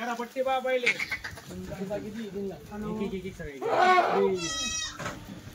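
Goats at a livestock sale bleat repeatedly in bursts, several animals close by, mixed with pigeon-like cooing and someone talking over them.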